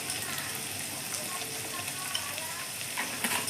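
Chopped tomatoes with salt fry in a pan in a steady, fairly quiet hiss of sizzling, with a few light crackles near the end.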